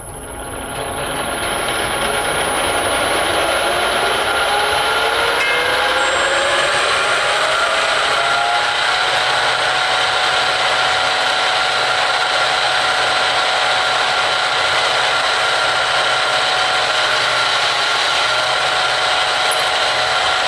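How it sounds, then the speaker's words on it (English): A steady, loud drill whine runs throughout while drilling holes in steel tubing for window security grills, with a rising pitch sweep early on as the bit spins up, continuous and close. "I'm drilling holes in them while it's easy to get them to the drill."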